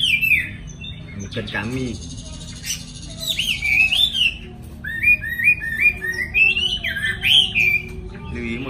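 A pet bird shut in a box chirps and trills, with clear repeated whistled phrases growing busier toward the end, heard close, with a short spoken remark early on.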